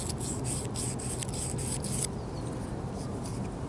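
A file rasps along the bevelled edge of a garden tool blade in quick repeated strokes, close and fairly quiet, then the strokes fade into softer rubbing.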